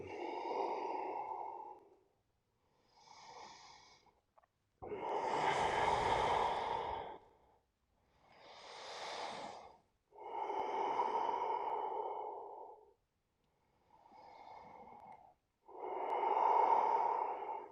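Deep yoga breathing, inhales and exhales alternating in a steady, unhurried rhythm for about seven breaths, close and fairly loud with brief silent gaps and no talking.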